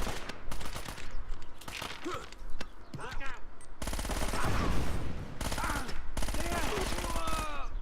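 Dense enemy gunfire in Uncharted: Drake's Fortune, with rapid automatic bursts and repeated shots filling the whole stretch, loud and continuous, plus a grenade going off amid the firefight.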